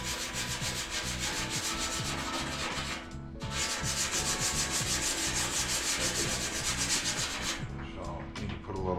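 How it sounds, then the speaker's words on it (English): Body filler is sanded by hand on a 1949 Jeep Willys, a loud close rasping scrape in rapid back-and-forth strokes, pausing once briefly before continuing and fading at the end. "Sorry, sanding that."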